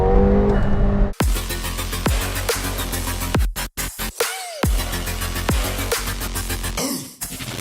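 A McLaren 720S sports car engine roars loud and close for several seconds, its pitch rising and falling through hard revs with brief cuts between gears and a short drop near the end, and no voices.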